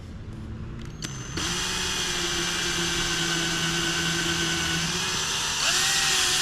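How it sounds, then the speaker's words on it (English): A power drill with an 8mm bit spins up with a sharp click, then whirs steadily at high speed, its pitch rising briefly near the end as it bites through wood. "we're using the 8mm drill"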